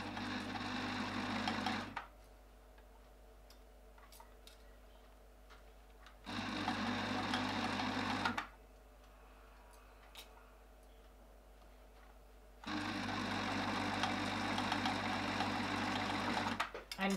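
Sewing machine running in three loud bursts of steady mechanical stitching through fabric, each lasting a few seconds, separated by quieter gaps with faint background hum, one burst ending in reverse stitching.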